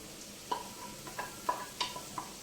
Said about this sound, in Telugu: ఇప్పుడు ఈ క్యాబేజీ వేసేసుకుందాం